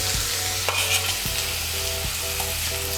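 Onion paste and garlic paste fry in a pan while being stirred for an egg malai curry, a constant close sizzle with periodic spatula scrapes and taps, no voices present.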